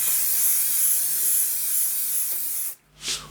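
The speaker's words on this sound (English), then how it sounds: "I'm going to use this Frisk pastel fixative, just a light spray." A continuous spray of Frisk pastel fixative from an aerosol can hisses steadily for nearly three seconds, then cuts off, followed by a short, softer puff.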